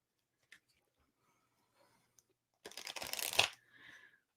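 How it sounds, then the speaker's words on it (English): Tarot cards being shuffled by hand, heard as a burst of riffling and snapping card noise after a few faint taps, followed by a soft rustle as the deck settles. "First, I'm doing some more shuffling."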